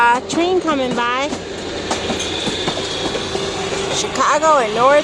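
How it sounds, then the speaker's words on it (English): A Chicago and North Western train rolls past at a railway museum with steady rumbling and clacking wheels, a high squealing tone rising and falling at the start and again near the end. "Another train coming by."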